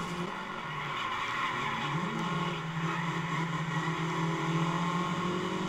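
A race car in a video game brakes hard and skids, with a sustained engine drone and tire squeal running steadily throughout, moderately loud with no talk.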